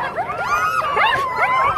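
Dogs at the Open North American Championship dog competition give high, wavering whines and yelps that rise and fall and overlap one another, close by and fairly loud.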